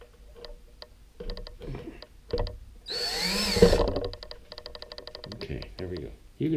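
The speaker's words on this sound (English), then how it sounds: "The only reason I'm drilling a hole first is because this stuff is really hard to drill into or put a screw through." A power drill bores a short hole into hard armature material for clay sculpting, a loud close whine lasting about a second amid ticking sounds and a person talking before and after.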